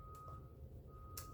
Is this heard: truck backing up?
yes